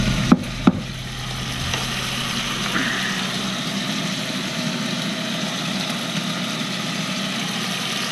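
Orecchiette pasta being stirred in a pot of boiling water: a continuous bubbling rumble with a couple of sharp knocks at the start.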